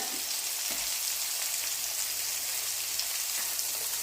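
Homemade meatballs fry in a pan with a steady, dense sizzle and crackle that runs unbroken throughout, close and fairly loud with no voices.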